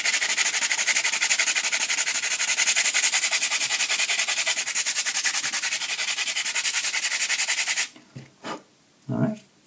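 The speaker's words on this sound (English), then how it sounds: "let's go ahead and take our really low grit sandpaper" Low-grit sandpaper rubs a surface in fast, even back-and-forth strokes, a loud continuous rasping that stops abruptly near the end, followed by a few faint handling sounds.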